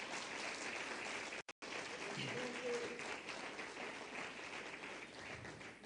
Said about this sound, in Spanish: Denle fuerte ese aplauso al Señor en esta hora